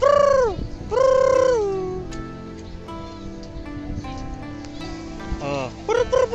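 Loud squawking parrot calls nearby, a couple of long harsh cries followed by softer chatter and a burst of screeches at the end.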